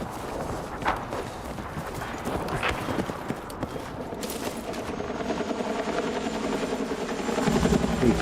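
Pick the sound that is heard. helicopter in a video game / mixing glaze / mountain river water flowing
helicopter in a video game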